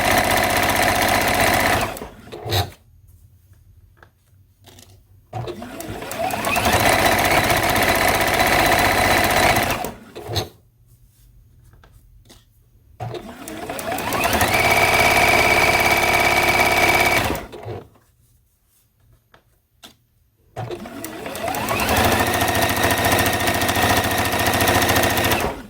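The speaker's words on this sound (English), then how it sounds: "I'm just using the edge of my presser foot as kind of a guide for where my seam is going to be all the way along" Sewing machine stitching a seam along a linen tea towel, guided by the edge of the presser foot, in three long loud whirring bursts separated by quiet pauses, with no talk.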